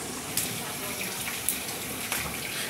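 Water runs steadily outdoors during a Sunday barbecue at home, a continuous hissing splash with a few louder spurts, fairly close and without pause.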